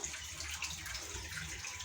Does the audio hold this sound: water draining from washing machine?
yes